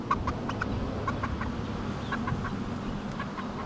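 Several chickens cluck in short, scattered bursts against a steady low background rumble, moderately close, with no voices.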